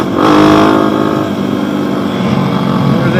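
A Honda XR250 dirt bike accelerating hard in a low gear for a wheelie, its engine a loud, close, rising rasp that holds strong for a few seconds with wind noise.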